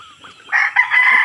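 A rooster gives a short, loud, close crow, its strained call rising and holding briefly with no talking over it.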